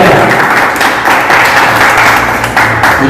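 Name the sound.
audience applause welcoming a speaker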